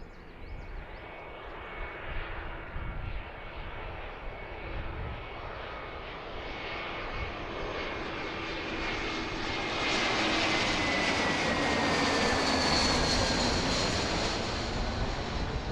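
Airliner landing on runway 27 right at Philadelphia airport, heard from Fort Mifflin: a broad, steady jet roar that grows louder and brighter as the plane closes in, with a faint high whine on top and no talking.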